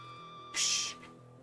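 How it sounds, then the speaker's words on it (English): Broken glass bottle shattering in the cycling video game Zwift, a brief bright crash of glass over a faint steady game hum, quiet overall. "I love that broken glass sound."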